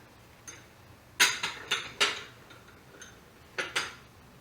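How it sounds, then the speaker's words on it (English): Avocado being mixed with salt and pepper in a bowl produces a handful of sharp utensil taps and clinks in an irregular rhythm, close and fairly quiet, with no talking. "we are going to mix this with the salt and pepper inside"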